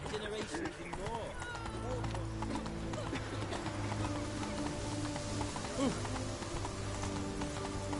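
Roach, the horse in The Witcher 3, gallops with a fast, even clip-clop of hooves under continuous game sound, while a voice talks over the top.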